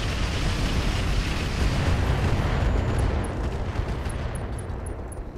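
Dense roar of weapon fire and blasts from battling mechs in the video game Roguetech, a continuous loud barrage with rumbling explosions that eases slightly toward the end, with high metallic pings at the close.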